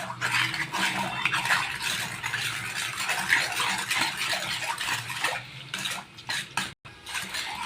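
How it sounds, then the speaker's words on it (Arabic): A spoon clinks and scrapes against a pot while sugar and custard powder are stirred together cold, a busy, steady clatter of metal on metal heard close up with no talking. "وهنقلبهم كده على البارد كويس جدا"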